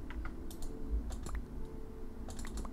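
Computer keyboard and mouse clicks at a desk: a handful of light, crisp taps and clicks scattered across the moment, close and fairly quiet, with no voice over them.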